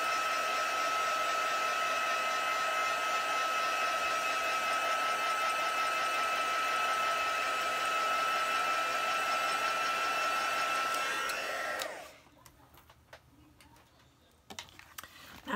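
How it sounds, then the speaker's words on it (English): Heat gun drying stamped ink on a paper card, a steady loud blowing whine with a high tonal hum that runs alone for about twelve seconds, then cuts off leaving faint handling taps. "I'm going to dry this a little bit with my heat gun."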